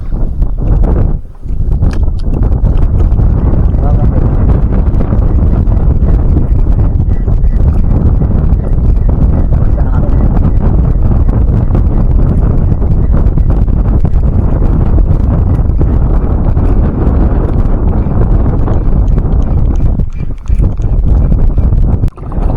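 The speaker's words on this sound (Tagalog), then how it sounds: "Lakas na ng hangin." Strong, steady wind buffets the microphone on a boat out fishing, with a loud, continuous low roar and gusty rumble throughout.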